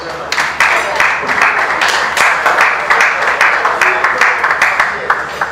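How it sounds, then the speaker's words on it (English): Conference audience at a South East South South gathering in Nigeria claps in a lively round of applause, with rhythmic bursts of hand clapping, close and fairly loud. "can we give the South-East South-South Network a round of applause?"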